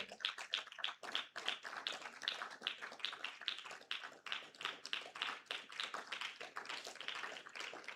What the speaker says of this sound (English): I expect that the applause will keep going until she gets here